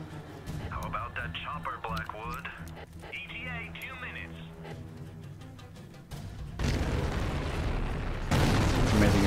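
A tunnel blows up in the video game Tunnel Rats, with deep booming explosion rumbles building and growing louder toward the end, layered over game tones and effects.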